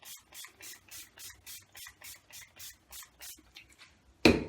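A rapid series of about fourteen short, evenly spaced spritzes from a pump sprayer of alcohol, close and fairly soft, ending with a sharper clack.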